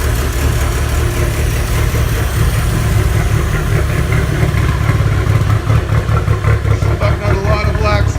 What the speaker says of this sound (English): Doesn't sound like it's running on all 4 cylinders